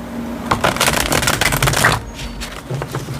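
Tarot cards being shuffled by hand, a dense run of quick papery riffles and slaps for about two seconds before tapering into softer, scattered flicks, close and fairly loud.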